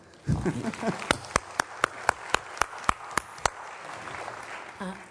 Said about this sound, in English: So, round of applause for Jennifer